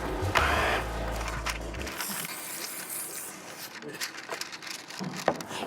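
Blender whirring through crepe batter with a teaspoon of sugar, a loud mechanical motor roar for about two seconds that then cuts out, leaving quieter kitchen clatter and a voice nearby.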